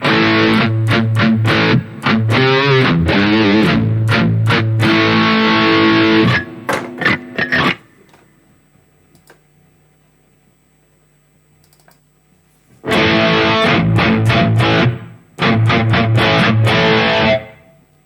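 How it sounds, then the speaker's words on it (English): An electric guitar plays chords through a JOYO GemBoxK8 reverb, a lush, spacious tail ringing out, a pause with lingering hum, then more reverberant strumming. "So this reverb I like to use at home while playing."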